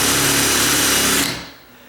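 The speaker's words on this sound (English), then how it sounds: "you could put this on reverse, on high, and it's not really drilling. You're just pushing it into the wood." A power drill set to reverse on high speed presses into the wood of a tall sagging door, giving a loud, steady whirring grind for over a second before winding down and fading out.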